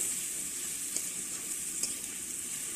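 Canned tuna fries with tomatoes in a pan at a village home, a soft, steady sizzle with a couple of faint clicks and no talking.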